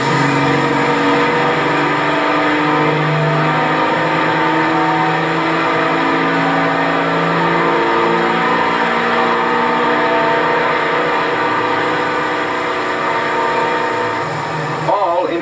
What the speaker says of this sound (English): Another Silver Diamond engine, this one under full load on another dynamometer.